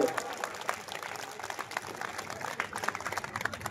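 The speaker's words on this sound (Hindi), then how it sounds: "विश्वास हो गया हो तो एक बार मेरे सम्मान में भी ढंग से ताली बजाओ।" Audience at an all-India Hindi poetry gathering held during a Durga festival applauds, a steady dense patter of many hands clapping at moderate distance, with faint crowd murmur underneath.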